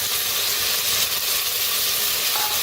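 Coriander, tomato and peas roasting in a pan for a masala, with a constant close, loud hissing sizzle and no break.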